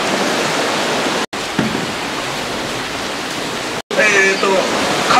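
A river flows steadily with a broad rushing wash in a salmon spawning stream, the Yurappu River, running continuously near and fairly loud, broken by two brief cuts, with a faint voice late.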